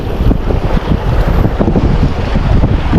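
Strong wind roars and buffets the microphone nonstop on a boat at sea while fishing near Pulau Nasi, Aceh Besar, with waves washing beneath the gusts.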